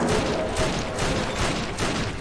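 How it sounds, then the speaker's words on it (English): Gunfire from the video game Fallout 3, a dense, continuous barrage of overlapping shots and bursts with no pauses, loud and busy throughout. "there's a lot of gunfire coming from down here."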